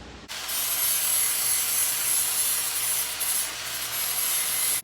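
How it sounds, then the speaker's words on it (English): An electric grinder with a flap disc smoothing trim edges on a 1988 NASCAR Buick Regal race car, giving a loud, steady, unbroken abrasive whine and rasp close up. "flapper disc on an electric grinder, and it really does a good job taking care of the edges"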